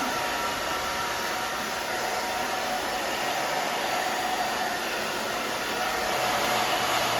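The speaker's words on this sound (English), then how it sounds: "I'm gonna kind of start drying that up just a little bit" A hair dryer blows continuously at close range while drying short hair during a pixie undercut mohawk styling, a steady loud whooshing roar with no pauses.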